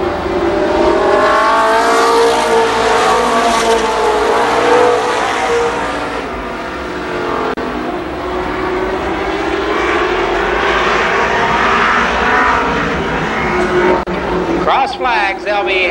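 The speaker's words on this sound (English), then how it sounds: "Putting that car number 12 through its paces" Race cars roar around Columbus Motor Speedway in 1993, loud engine whine rising and falling as cars pass, with an announcer talking over the racing throughout.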